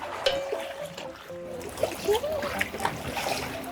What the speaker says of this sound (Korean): 아, 지금 파도가 엄청 세네.